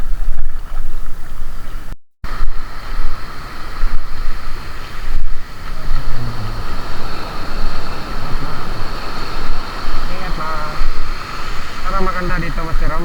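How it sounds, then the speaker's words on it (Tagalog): Large sea waves wash and slap around a small fishing boat on the open water, with heavy wind buffeting close to the microphone. The surging roar is continuous, and voices come in and out over it. "malaki-laki yung mga alon"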